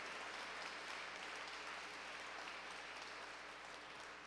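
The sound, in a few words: audience applauding at a commemoration ceremony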